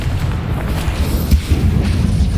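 Bombarda and Confringo spell explosions in the video game Hogwarts Legacy, loud continuous booming rumble with dense low blasts rolling into each other, no clear gaps between them.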